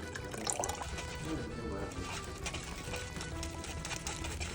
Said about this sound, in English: we're gonna take a little bit of pasta water and put it in our sauce